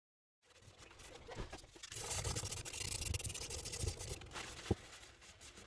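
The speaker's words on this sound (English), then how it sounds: "So sanding is all done now." Steady rasping rub of sandpaper against a resin die, a continuous close scratchy texture with brief strokes and one sharp click near the end, no talking.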